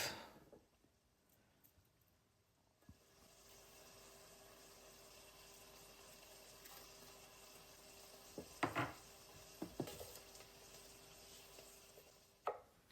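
A knife cutting a shallot into large chunks on a board, with a few soft chopping thuds late in the clip over a faint steady kitchen hum.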